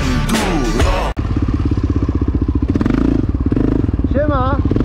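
An enduro motorcycle engine runs and revs close by with a rapid pulsing beat, following a brief clatter and thud, with a short voice-like warble near the end.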